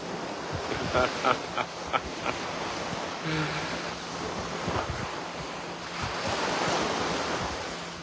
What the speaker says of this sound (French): ben le bruit des vagues